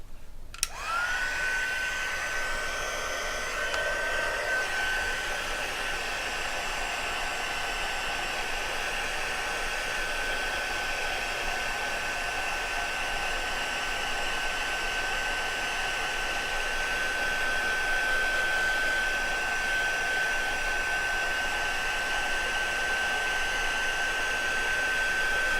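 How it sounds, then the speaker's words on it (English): A heat gun blows steadily for about 25 seconds as it dries mixed media paint, giving a constant, even whine and rush of air after a quick click on. "you can use the heat gun, and I'm going to use the heat gun on that"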